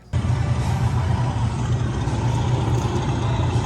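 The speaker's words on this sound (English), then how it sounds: "that is the engine sound from the side of the cart" A small go-kart engine drones loudly and steadily up close on an indoor track, a continuous rumbling buzz with no break.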